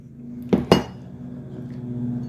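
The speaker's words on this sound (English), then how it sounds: "let's give this a stir" A spoon knocks twice against a pot of blueberry sauce, two sharp metallic clinks close together, followed by a faint low hum and quiet bubbling.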